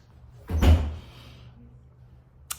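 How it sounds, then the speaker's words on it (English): A door swung shut with a single solid thud indoors, followed by quiet room tone and a faint knock at the end; no talking over it. "Close your door."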